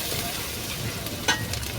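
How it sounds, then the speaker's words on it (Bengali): Two kilos of onions frying in a large pot on a clay stove, a dense continuous sizzle up close with a single sharp stirring clink near the end. "তো পেঁয়াজ তো ভাজা চলছে,"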